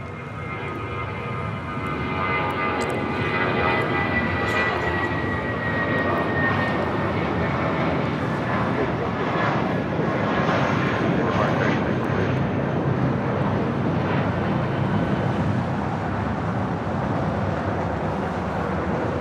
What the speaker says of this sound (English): This is Spirit 816 taking off to Kansas City on an A320